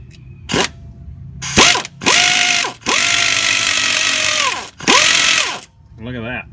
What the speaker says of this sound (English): Tighten up the bolt and draw it on.